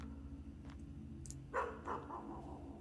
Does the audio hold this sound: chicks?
no